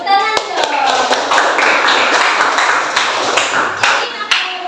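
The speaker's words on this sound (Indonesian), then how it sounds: "tepuk tangan dong" Dense applause from a classroom or lecture audience, steady rapid clapping throughout with a few sharper individual claps standing out.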